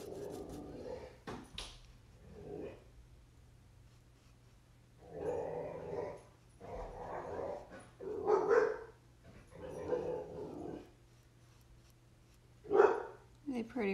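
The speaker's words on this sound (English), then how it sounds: "Some vicious dogs out there." Dogs bark and growl outdoors at a distance in several bursts, some yips among them, with quiet stretches between and a low hum underneath.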